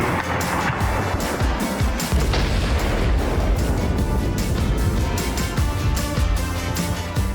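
Rapid AR rifle shots at outdoor targets, a dense string of loud sharp cracks and booms continuing through the whole stretch with little pause.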